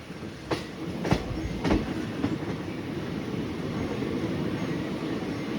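Passenger train rolling between Hosapete and Harihar via Davangere, a steady rumble with sharp clickety-clack wheel hits at irregular intervals near the start, heard from on board, no voices.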